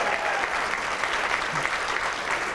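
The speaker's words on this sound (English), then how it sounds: "So another round of applause for Shar." An audience at the 2017 WIT Salute to Women Behind The Wheel awards event claps steadily, a dense, even wash of applause that holds at a constant level throughout.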